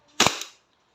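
A single sharp crack from a DB 1911 MEU semi-automatic airsoft pistol during a chrono test, close and loud with a brief tail, followed by quiet.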